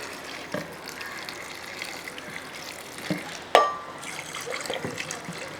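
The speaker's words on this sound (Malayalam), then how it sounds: "ഇനി നമുക്ക് ഇതിൻ്റെ അകത്തോട്ട് കുറച്ച് വെള്ളം ഒഴിച്ചു കൊടുക്കണം" Water is poured into a cooking pot over vegetable pieces for a Kerala-style naadan veg curry, a soft continuous splashing trickle with a sharp clink partway through, fairly quiet and without talk.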